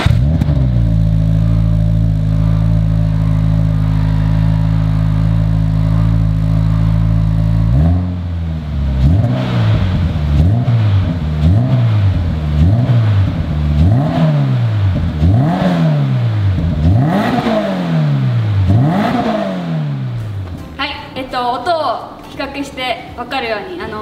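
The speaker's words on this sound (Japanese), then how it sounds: "私が今つけさせていただいたトラストマフラーの音の比較" A Toyota GR86 fitted with an aftermarket Trust muffler idles loudly for about eight seconds, then revs in a steady rhythm of about nine rising and falling pulls. The sound is close and powerful and ends in rougher clatter.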